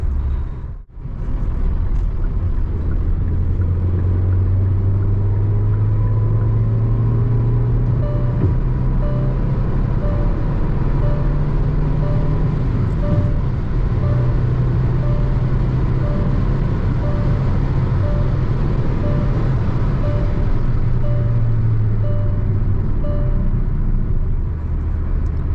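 A 2023 Hyundai Verna 1.5 Turbo with manual gearbox and converted rear disc brakes drives along, its engine and road rumble steady inside the cabin, easing in pitch as it slows, with no talking.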